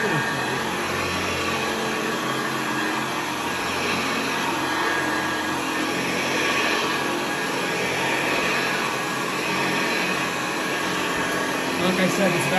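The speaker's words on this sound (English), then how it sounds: "this vacuum is rather small" A small Hoover convertible 704-01 upright vacuum cleaner motor drones steadily and loudly from start to finish with a constant airy whine and no pauses.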